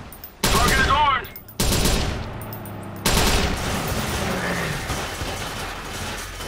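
Gunfire from the Watch Dogs action game arrives as loud, sustained automatic bursts separated by brief gaps, followed by a continuing lower wash of combat noise.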